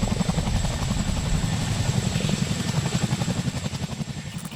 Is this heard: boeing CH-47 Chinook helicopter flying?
yes